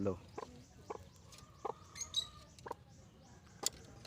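A hen gives several scattered clucks amid faint outdoor noise, with a few sharper chirps and brief rustles between calls.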